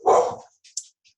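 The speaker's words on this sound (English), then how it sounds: "There goes the dog." A house dog barks once, loud and close, with a couple of fainter short yips trailing after it, no talking.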